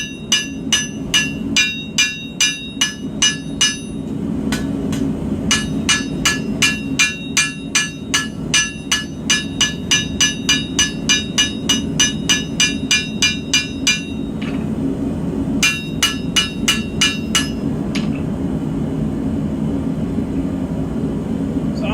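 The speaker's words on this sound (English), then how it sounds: "hammering backwards" Steel blade bevels being forged with a hammer ring out as a fast, loud, steady run of metallic strikes with brief pauses, close and with no talk.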